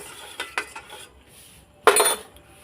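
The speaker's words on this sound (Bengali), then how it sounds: "আর একটু আমি নেড়ে চেড়ে আমি শিরাটা বানিয়ে নিচ্ছি" A spoon stirs sugar syrup with cracked cardamom pods in a pan for rice-flour danadar. A couple of light knocks are followed by a louder, brief scraping clatter against the metal, with quiet gaps between.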